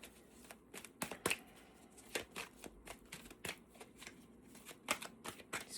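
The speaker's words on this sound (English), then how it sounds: "These cards are awful to shuffle." A deck of stiff cards is shuffled by hand in quick, irregular bursts of riffling and slapping, close and fairly quiet, with no talking.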